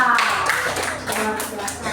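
A classroom of students claps for a student group's presentation, a short burst of hand claps under overlapping voices of people talking.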